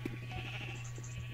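A faint sheep bleat from the video game Minecraft, short and quiet under a steady low hum.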